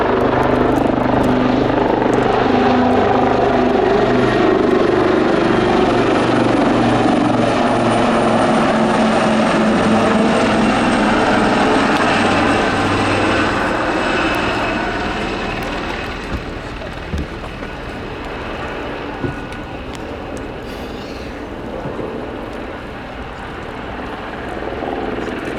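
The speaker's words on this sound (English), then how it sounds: "The two Leonardo Wildcat HMA.2 got the Royal Navy helicopter display" Two Royal Navy Leonardo Wildcat HMA.2 helicopters of the Black Cats display team fly a display at RIAT 2025, their rotor and turbine noise loud and close at first, then gradually fading as they move away, with voices faintly underneath.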